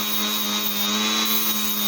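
A rotary tool with a 100-grit sanding drum whines at a steady high pitch while grinding an iron meteorite, a continuous close, loud buzz.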